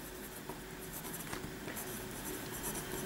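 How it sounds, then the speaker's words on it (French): Pen or marker writing on a board or paper, a steady faint scratching with a few light taps, heard alone against a constant low background hum. "on va écrire les lois de Soddy"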